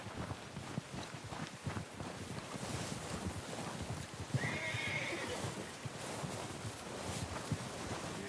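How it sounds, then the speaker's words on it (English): A horse in the video game Red Dead Redemption 2 lets out a clear whinny midway, over a steady bed of hoof clops and wind noise. "I'm gonna get this packed on my horse."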